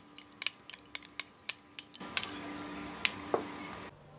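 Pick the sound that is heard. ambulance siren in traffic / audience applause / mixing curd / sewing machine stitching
mixing curd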